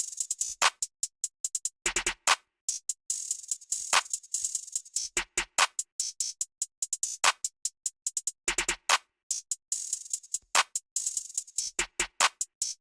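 Trap drums in an FL Studio beat play alone, with rapid hi-hat rolls, snappy claps and kicks repeating in a steady, busy loop at moderate level.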